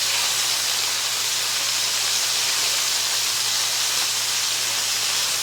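Chicken legs, tandoori-marinated, sizzle in hot oil in a pan as a steady, loud, broadband hiss with no break throughout.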